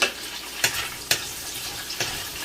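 Onion and garlic sautéing in a pan for pinakbet, a steady soft sizzle broken by four sharp scrapes of a spatula, close and alone without voices.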